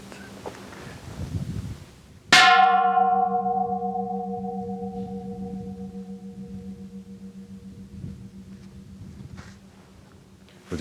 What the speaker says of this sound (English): Would you mind if I record the sound of the bell?